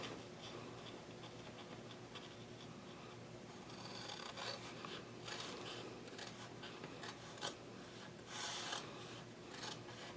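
Scissors trimming the seam allowance on the curved fabric edges of a messenger bag, faint close snips and rustling that become a quick run of crisp cuts in the second half.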